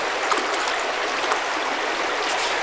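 A backcountry creek in the Gila Wilderness flows with a steady, broad rushing hiss and light bubbling, close by and constant, with no voices.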